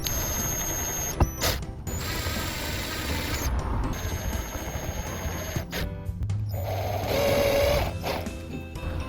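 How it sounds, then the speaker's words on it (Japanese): A power drill bores pilot holes at marked spots while fitting an umbrella holder and towel rack inside a camper van, whirring close by in several bursts with short pauses in between. "先ほどつけた印のところに下穴を開けていきます。"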